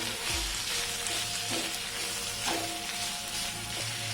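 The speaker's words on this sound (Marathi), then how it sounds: "दोन मिनिटे मी हा कुपा चांगला कांद्यामध्ये परतून घेतलेला आहे" Minced kupa (tuna) fish frying with onions and ginger-garlic paste in a pan, giving a steady, dense sizzle that carries on without a break, close and fairly loud with no talking.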